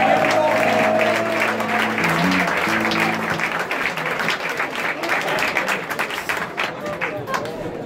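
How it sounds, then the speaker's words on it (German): A concert audience at a tribute show applauds warmly, dense clapping with a few cheers, while a sustained musical tone fades out at the start and a voice speaks briefly over the crowd. "Herzlichen Applaus!"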